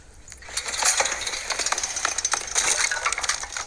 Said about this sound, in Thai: เลโก้นี่เสียงเลโก้ชัดๆ